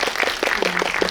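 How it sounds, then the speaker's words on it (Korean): A cinema audience claps at a guest visit screening, a dense round of applause from many hands that sounds full and fairly close, heard alone and lasting only a moment. "박수를 주시네요"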